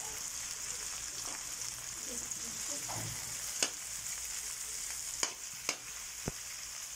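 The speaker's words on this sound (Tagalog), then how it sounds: "Ginigisa muna natin sa sibuyas, bawang, luya at kamatis" Onion, garlic, ginger and tomato sizzle in hot oil for squid pinakbet, a steady frying hiss running throughout with a few sharp clicks of stirring near the end.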